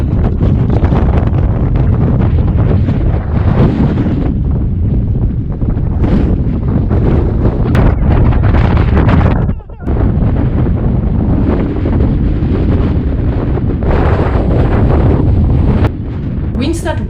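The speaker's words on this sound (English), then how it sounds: "The winds at Luderitz can easily reach 50 to 60 knots some days." Strong wind at Luderitz on the coast, gusting toward 50 to 60 knots, roars in heavy, continuous buffeting against the microphone with a brief lull midway, loud and close throughout.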